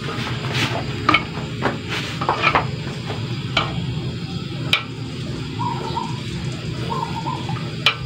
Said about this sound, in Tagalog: Haluin lang siya ng haluin